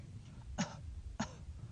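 A person imitates an elderly person's weak cough, two short, feeble coughing bursts spaced about half a second apart, heard close up with no speech around them.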